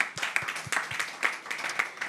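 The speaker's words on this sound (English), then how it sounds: "A big round of applause to everyone." A small conference audience gives a round of applause, a sparse and faint patter of individual claps that never builds into a full ovation.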